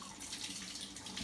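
Running tap water pours steadily into a sink as hands are washed with homemade charcoal soap, a continuous close splashing hiss with no talking.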